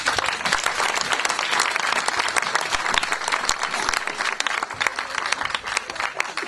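A concert audience in Verdun fills the space with continuous, crackling applause that holds at a steady level with no break.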